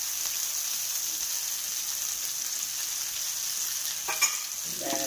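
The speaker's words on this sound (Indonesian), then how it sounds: "Kita masukkan santannya ke dalam sini." Coconut milk poured into a pan of shrimp curry cooking over lowered heat, giving a steady loud sizzle and bubbling throughout with a brief clatter of stirring near the end.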